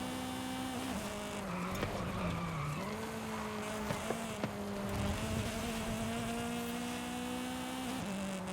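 Porsche tires squeal and skid for several seconds during a track drive in Forza Horizon 5, a sustained whining screech over a steady engine drone with small pitch shifts as the car slides through corners.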